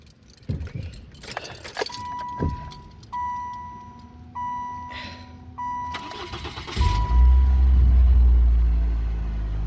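A car whose water pump had failed and that had a tree fall on it: keys jangle close by, then the engine cranks several times and catches, settling into a loud, steady idle.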